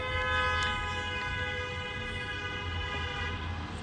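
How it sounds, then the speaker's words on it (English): A long, sustained train horn blares continuously at strong volume, one unbroken toot with rich harmonic layers over low rumbling background noise. "longest fucking honk in history."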